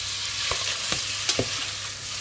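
Onion and speck fry in a pan with a steady close sizzle, interrupted by a few soft scrapes and knocks from stirring.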